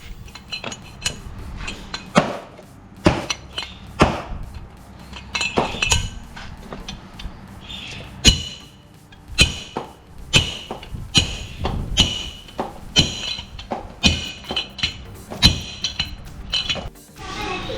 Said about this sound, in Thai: เนี่ยอันนี้ก็จะตอกอย่างนี้เลยนะ